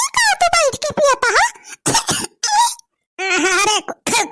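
In a comedy sketch, a person coughs in a rapid series of loud, squeaky, strained bursts, with short pauses between fits.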